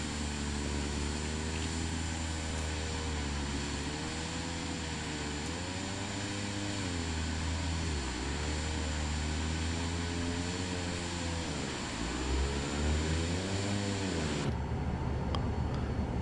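Steady airliner engine drone from Microsoft Flight Simulator 2024, a continuous loud hum with slowly wavering pitch that dips a few times and shifts tone near the end as the engines are shut down.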